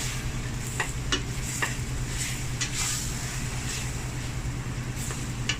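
Chili noodle mix being stirred in a pan, light scraping and ticking strokes at an uneven pace over a constant low sizzling hum, quiet and near.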